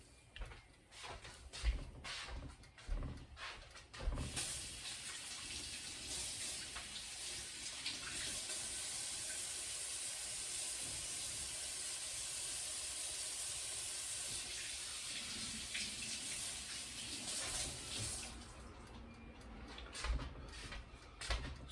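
Running tap water pours steadily into a sink while vegetable leaves are washed for Western Ukrainian beef borscht, a continuous close hiss with a few sharper splashes and handling knocks at the start and end.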